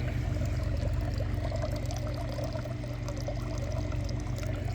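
Water pours steadily out of a Beluga solar pool heater, a continuous splashing stream heard close and loud for the whole stretch with no voices over it.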